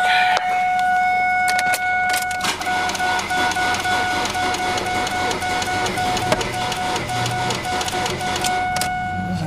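A jump-started car with a dead battery idles roughly and loudly up close, a constant uneven engine drone with a whining tone and scattered rattles and clicks throughout.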